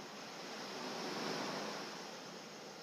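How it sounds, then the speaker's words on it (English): Steady ocean surf washing in a broad, continuous roar that swells slightly in the middle and eases off, with no voices. "I thought we might like some ocean music."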